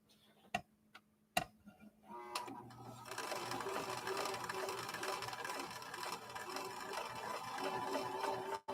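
A sewing machine, newly back from a paint shop, gives a few loud clicks and then runs steadily with a fast, even rattling whir, close and without speech.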